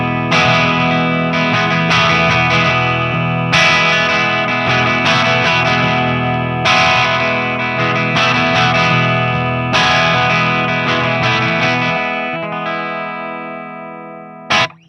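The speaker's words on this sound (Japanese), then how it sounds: "マーシャルのクランチって感じでとても使いやすいんじゃないかなと思います。" Crunchy, Marshall-style overdriven electric guitar through a VOX Valvenergy Copperhead Drive tube preamp pedal, strummed chords ringing out with light reverb over several bars before fading into a final short hit.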